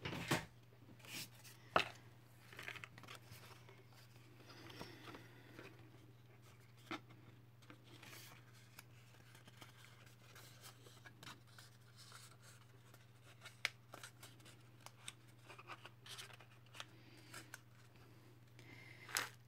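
Material being cut for a handmade box, a quiet series of short irregular snips and scrapes spaced over a long stretch against a low background hum.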